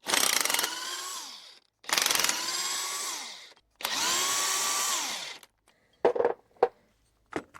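A power driver fitted with a 3/8 Allen bit spins out long spindle bolts on a 2007 Club Car golf cart during a 6-inch lift kit install, three sustained close whirring bursts followed by brief clicks and clanks.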